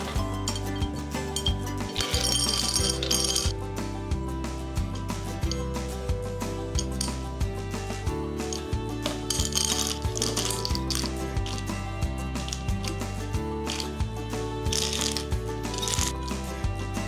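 An ice maker cycling out cubes, with hard ice clinking and rattling against the bin in repeated close bursts over a low rhythmic mechanical hum, no talking.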